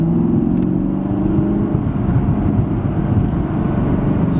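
A 2016 Chevrolet Camaro SS 2SS with a V8 hums and rumbles steadily from inside the cabin while driving through corners, its engine note shifting slightly as it eases off partway through.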